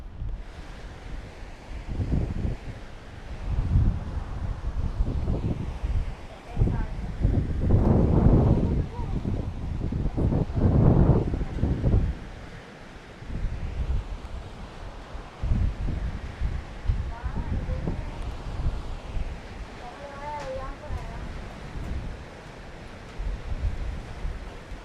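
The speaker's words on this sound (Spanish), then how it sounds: "la brisa del mar trae consigo agua y estamos aquí mojándonos cantidad" Strong sea breeze and surf on the Cojimar coast, with loud broadband wind buffeting the microphone and waves washing in close by, surging and easing throughout while people talk over it.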